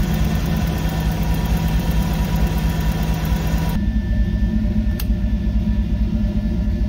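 A 1991 or older Ford truck engine idles with a steady, loud low rumble, unchanging throughout, with a brief faint click midway and no talking.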